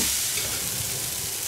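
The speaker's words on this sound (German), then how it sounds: "Und lassen wir es mal kurz anbraten." Chopped cabbage fries in a pot with onion, giving a loud, continuous close sizzle and crackle with no voices.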